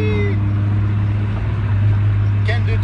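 A Mitsubishi Eclipse engine idles with a loud, steady low drone and a raspy, uneven edge, heard from close by with no break in the sound.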